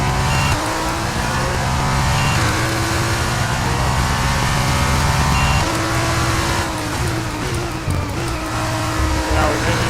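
An F1 car in the F1 23 racing game drives around Circuit Paul Ricard, its high engine whine loud and continuous with pitch shifts through braking and corners, while a person talks over it.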